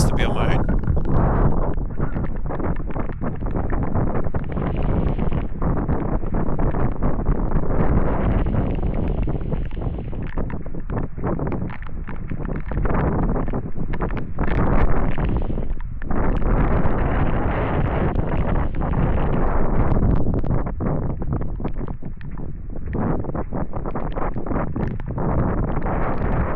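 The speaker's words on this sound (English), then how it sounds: "it's pretty windy" Strong wind buffets a microphone at a dark, wet hilltop lookout on Colonial Knob, a loud continuous roar with gusting surges over nearly half a minute, close and heavy throughout.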